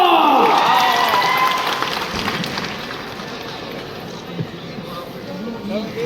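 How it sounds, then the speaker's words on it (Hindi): Loud audience applause and crowd noise at a Bhojpuri music award event, starting strong and tapering into a lower, sustained clatter. "जोरदार तालियां"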